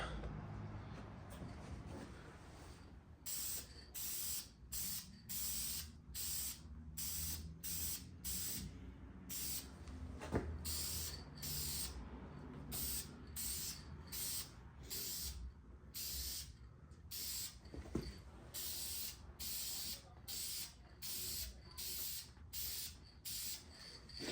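Repeated short bursts of aerosol spray paint coating an SBC 383 stroker engine block, about a dozen hissing passes in a steady rhythm with brief pauses between, close and fairly quiet, no talking.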